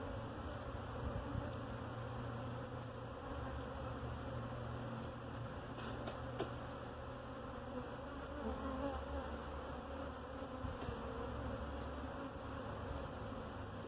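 Bees swarm around a person during a honey challenge, a dense steady buzzing that persists the whole time, moderately quiet and close, with small rustles now and then.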